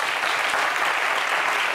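Studio audience applause on a French entertainment talk show, a steady, dense wash of clapping heard alone and holding at an even level throughout the short stretch.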